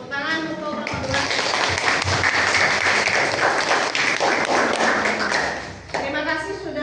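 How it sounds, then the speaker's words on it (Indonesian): A classroom group in a history lesson gets a burst of dense applause lasting several seconds, many hands clapping close by before the noise tapers off and speech resumes. "Tepuk tangan untuk kelompok"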